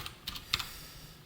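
A few quick keystrokes on a computer keyboard, clustered in two short bursts of clicks and then stopping, close and fairly quiet, during a Java programming lesson.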